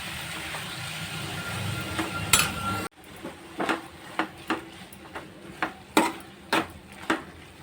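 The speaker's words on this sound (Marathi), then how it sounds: "आता आता परतून घेऊया." Dried shrimp (javla) being sautéed in a pan, with a sizzling wash followed by a series of sharp metallic spatula scrapes and taps against the pan, spaced irregularly and close by.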